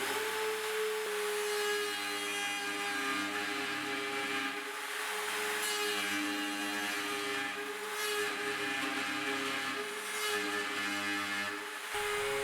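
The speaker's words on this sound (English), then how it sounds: "I'll use a flush trim router bit, which comes with a bearing that will run along the entire surface of the sink" A router with a bearing-guided flush trim bit cuts oak wood along a kitchen sink edge during cabinet installation, a steady, high motor whine with continuous grinding cut noise throughout.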